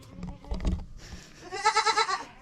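Baby goats bleat close by, a wavering, quavering cry that follows a few shuffling thumps and a shorter bleat. There is no talk.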